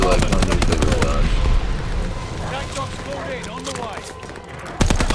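Rapid bursts of AS-44 automatic fire in a Call of Duty match on the Shipment map, loud and dense at the start, then a quieter stretch of scattered battle noise before another sharp burst at the end.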